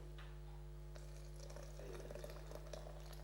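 Liquid poured for a BBC pudding, a soft continuous trickling and splashing that swells in the second half, close and fairly faint over a steady low hum, with no talking.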